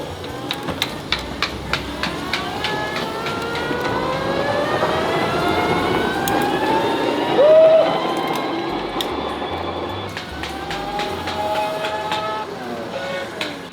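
An electric motorcycle runs with a rising whine that sweeps up in pitch as it speeds, then drops and climbs again, over road noise and a series of regular clicks.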